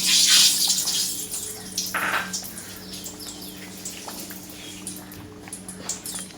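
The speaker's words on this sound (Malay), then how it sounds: "Saya tambahkan air asam jawa secukupnya." Tamarind water is poured into a cooking pot as nasi lemak sambal udang is prepared, giving a steady close splashing trickle with small clinks of utensils against the pot.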